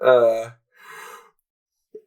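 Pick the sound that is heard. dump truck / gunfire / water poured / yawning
yawning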